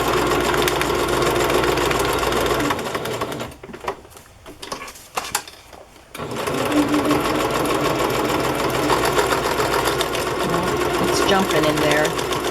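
A sewing machine runs a straight stitch in steady loud bursts, stopping briefly for a few seconds midway before resuming its continuous whir.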